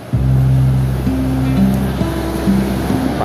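Steady ocean surf rolls without a break at Tanjung Jati beach, loud and close, mixed with a low engine drone and a layered hum underneath.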